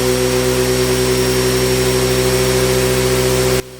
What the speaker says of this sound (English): let's turn it on to see how long it will take to fill up with air this 50 liter of tank